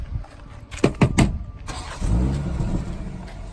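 A 2020 BMW X5 with the M Package starts up. A few sharp clicks and thumps come first, then the engine catches with a low rumble that settles into a steady idle close by.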